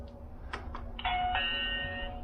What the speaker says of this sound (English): So I'm gonna press the doorbell.